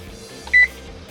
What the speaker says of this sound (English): I'm going to set a timer for 5 minutes for it to cool